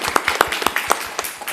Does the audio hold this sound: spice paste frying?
no